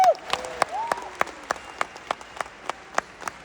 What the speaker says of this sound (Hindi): एक बार जोरदार ताली आप अपने लिए बजाओ